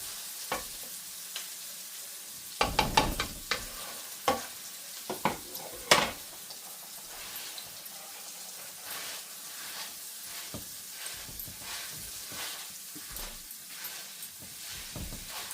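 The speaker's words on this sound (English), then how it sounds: "we're going to let that brown in the butter for a little bit with the spices" Beef browning in butter with spices in a pan, a steady soft sizzle with a few clanks of a utensil against the pan early on, then quieter frying.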